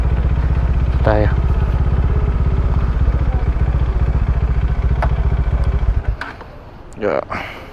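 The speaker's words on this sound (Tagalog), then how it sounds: "Yung mga motor ng kasama natin guys, puro Kawasaki." Several Kawasaki motorcycles idle together close by at a late-night coffee shop stop, a steady low rumble with some clatter that cuts off near the end, while people talk over it.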